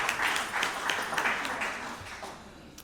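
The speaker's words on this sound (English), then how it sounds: "So let's give all these people a round of applause." A round of applause at a Rotary Club meeting, a room of members clapping briskly at moderate volume, the clapping thinning slightly toward the end.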